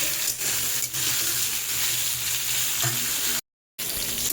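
Salted mixed vegetables fry in a pan while being stirred for a fish curry, giving a steady, close, continuous sizzle with a brief break near the end and no talk.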